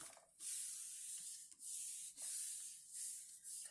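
Paint being rubbed down firmly onto a Gelli printing plate, a close, soft, hissing scrape of repeated strokes with brief pauses between them, no talking.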